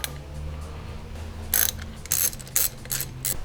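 A hand ratchet clicks while loosening the 10mm head cover bolts on a Vulcan 750 motorcycle, with several short bursts of rapid clicking close up over a low background hum.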